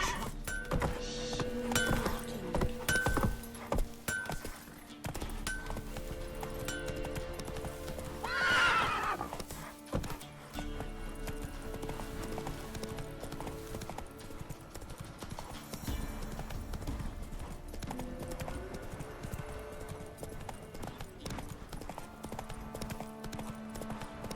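Roach, a horse in The Witcher 3, gallops with steady rapid clip-clop hoofbeats and lets out a loud whinny partway through, over a constant bed of game ambience and music.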